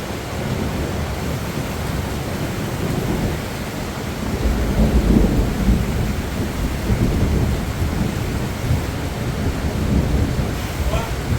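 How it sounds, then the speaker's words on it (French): A thunderstorm rolls over fish-farm ponds outdoors, with steady broadband rain hiss and low thunder rumbling throughout. The rumble swells in the middle and holds at a fairly constant level, with no voices present. "Bon, là il y a un orage en cours."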